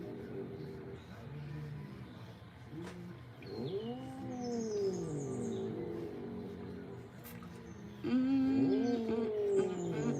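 A Himalayan cat growls and yowls in low, drawn-out moans, rising and falling, with a louder outburst near the end, while being groomed.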